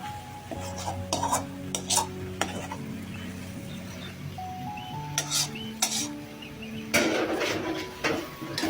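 A spoon stirs a vegetable cutlet mixture in a pan, giving repeated scraping and knocking against the metal with a soft sizzle underneath, close and fairly quiet.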